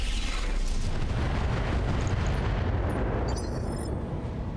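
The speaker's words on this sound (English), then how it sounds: "Firing at enemy." Mech weapons firing at an enemy in the BattleTech video game: a dense, loud rumbling barrage of explosive booms with a sustained roaring body, then a few thin metallic high-pitched tones near the end.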